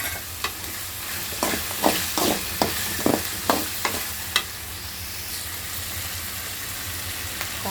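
Garlic fries in a pan for a radish and dried-fish kuzhambu, a soft continuous sizzle broken by a dozen sharp spatula scrapes and taps against the pan, fairly close and quiet.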